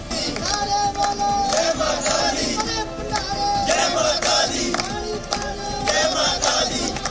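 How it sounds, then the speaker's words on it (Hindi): Crowd of devotees at a temple raising religious chants and cheers, a dense, steady wall of many voices that swells and surges throughout, close and loud with overlapping shouts. "बीच बीच में श्रद्धालुओं के जयकारे गूंजते रहे"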